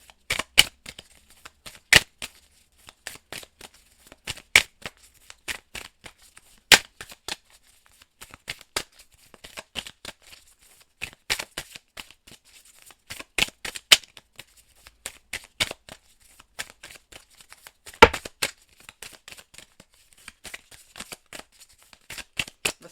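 Oracle cards being shuffled for a reading, a long run of sharp irregular riffles and snaps, close and crisp, with brief pauses between bursts and no talking.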